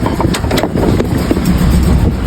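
A pickup truck with a failing alternator, kept running on a jump starter, idles with a loud, rough, rattling engine rumble and a few sharp clicks, close by and continuous, with no speech.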